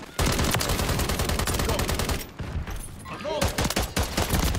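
Rapid, dense gunfire from Call of Duty: Modern Warfare 3 on the Shipment map, with sustained automatic bursts and pistol shots filling nearly the whole stretch, loud and close, briefly easing in the middle before resuming.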